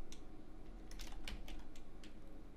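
Typing a search into a computer keyboard: a short run of soft, quiet key taps in an uneven rhythm, close but faint, with no talking.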